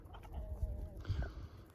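Chickens and a young rooster cluck in a farmyard during breeding season, low murmuring clucks and short calls at close range, fairly quiet, with a faint voice in the background.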